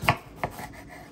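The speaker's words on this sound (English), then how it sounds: "So I'm just going to dice these up." A knife chops food on a board, two distinct cuts followed by a softer scrape, close and fairly quiet with no talking.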